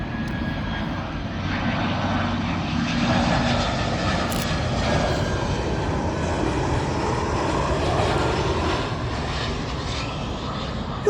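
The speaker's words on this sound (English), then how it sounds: "Up next, Aer Lingus A320. This one in from Dublin." An Aer Lingus Airbus A320 jet arrives at Heathrow from Dublin. A steady engine roar with a faint whining tone builds gently and holds fairly loud throughout, with no speech.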